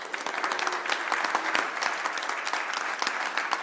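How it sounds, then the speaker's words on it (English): An audience at a Raleigh Kiwanis meeting gives steady, dense applause for their treasurer, many hands clapping continuously from start to finish at moderate volume, with no speech over it. "let's give him a round of applause"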